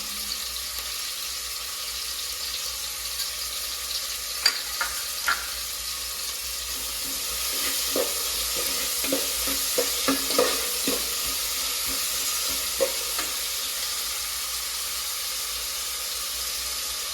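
Sliced onions sautéing with salt in a pan for a vegetable curry, a steady low sizzle broken by scattered clicks and taps of a spoon stirring, close and moderate in level, with no voices.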